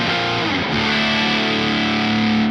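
Electric guitar chords through a ParaEq MKII mid-forward boost, breaking up into light overdrive. A strummed chord rings and then settles into a sustained, loud, close chord with no voices.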